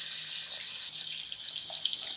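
Two cups of whole basmati rice being rinsed in water, a steady running-water wash close by, continuous and fairly even with no speech.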